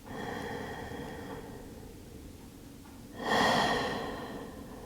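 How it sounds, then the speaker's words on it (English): A few slow, deep breaths taken during a calming wind-down session, a soft airy inhale followed by a louder, fuller exhale about midway through, close and unhurried against a quiet background. "So take a few breaths."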